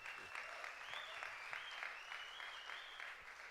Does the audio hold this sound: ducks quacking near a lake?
no